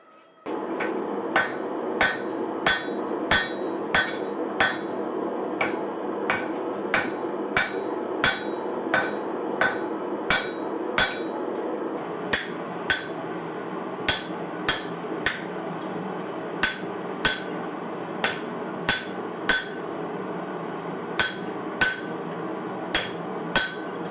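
Repeated ringing hammer blows on hot steel, forging a ball peen hammer head, at a steady, even rhythm, loud and close, over a constant background roar.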